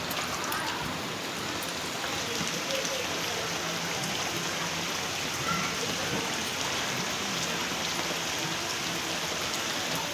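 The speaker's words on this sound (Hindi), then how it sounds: "कितनी बारिश, कितनी तेज बारिश हुई है बता नहीं सकते।" Heavy rain pours steadily, a dense, continuous hiss of drops striking surfaces nearby with no breaks.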